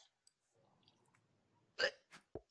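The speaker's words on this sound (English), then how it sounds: "I have hiccups." A person gives a sharp, close hiccup in a quiet room, followed shortly by a smaller catch of breath, with faint background murmur before it.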